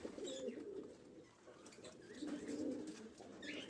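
A newly paired fantail pigeon cock and hen coo together in repeated low, rolling phrases, close and fairly quiet, with faint higher chirps above.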